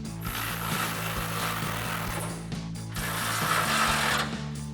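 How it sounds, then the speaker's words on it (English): A ratchet wrench with a 21mm socket tightening the bumper nuts on a 2009-2014 Ford F-150: rapid repeated clicking strokes, close and steady, under a constant low hum. "Now we're gonna take a 21mm socket and tighten down these nuts."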